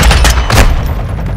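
Call of Duty: Modern Warfare II heavy fire: a loud, close cluster of rapid gunshots with booming low thumps, dying down into a rumbling tail after the first half second.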